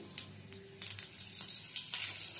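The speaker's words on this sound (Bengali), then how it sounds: "এবারে এই তেলের মধ্যে ফোড়নে দিচ্ছি কালো জিরে, আর দেব একটা কাঁচা লঙ্কা" Black cumin seeds and a slit green chili dropped into hot oil for tempering, crackling and sizzling close by in short bursts that build into a steady hiss.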